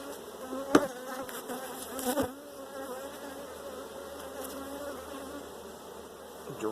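Honeybees buzz steadily around hives during a honey harvest, a dense close swarm drone with a couple of sharp knocks and clatters from handling equipment.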